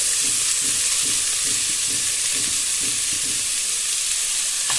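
Red radish thoran being stirred in a frying pan, with a steady sizzle and a regular scraping rhythm from the spoon, close and fairly loud, with no voices.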